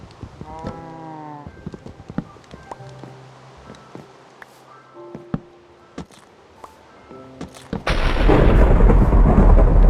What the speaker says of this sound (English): They got lightning in this game?